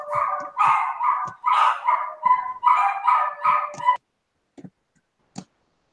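A dog barks in a rapid, loud run of overlapping yaps and barks for about four seconds, then falls silent except for a couple of faint, brief knocks.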